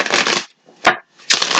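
Tarot cards are shuffled in quick riffling bursts at close range, two rustling runs split by a sharp snap of the deck, with no talking.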